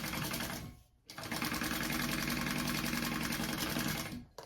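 A sewing machine runs a basting stitch an eighth of an inch from the edge, fastening a bag gusset to its lining piece; the loud, close whir pauses briefly near the start, then continues steadily.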